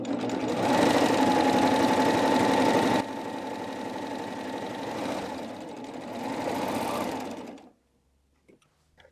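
A sewing machine with a regular presser foot stitches fabric in a steady, fast mechanical whir, dropping to a lighter run midway before stopping, followed by faint handling sounds.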